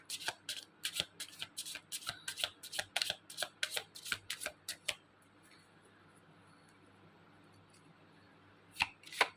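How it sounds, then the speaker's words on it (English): Tarot cards are shuffled in a quick run of crisp riffling snaps, then a quiet pause, followed by a couple more sharp card sounds near the end. "Okay, just let me shuffle this one more time."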